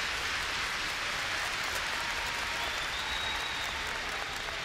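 A large crowd at a CS:GO esports semifinal between FaZe and Fnatic cheers and applauds, a dense, continuous roar of clapping that stays loud and even throughout.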